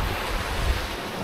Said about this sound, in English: The big waves come in, get you by surprise, you can't get back.